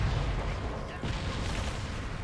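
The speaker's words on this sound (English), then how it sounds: "we're going to get inside this cannon now to destroy some more turrets" Cannon fire at turrets in Resident Evil 4's Separate Ways mode: dense, continuous booming blasts and rumble packed together across the whole stretch, loud and close.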